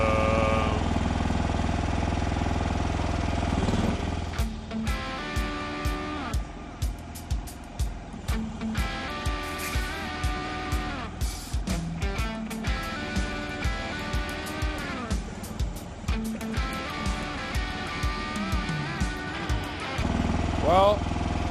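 Chinese mini skid steer's small engine running while scooping, a close rhythmic chugging with repeated pulsing bursts as the load changes, loud and steady throughout.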